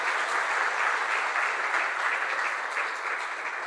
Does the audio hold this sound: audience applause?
yes